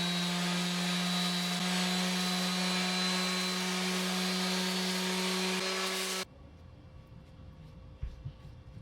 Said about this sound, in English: I'll just carry on and sand the rest down to make it nice and smooth.